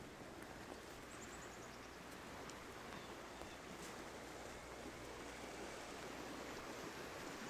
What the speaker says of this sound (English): the river's really cooking through here pretty good.